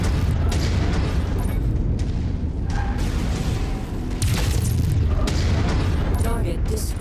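Heavy explosions from mech combat in the video game MechWarrior 5 form a dense, loud, continuous rumble, with repeated booming bursts layered over one another throughout.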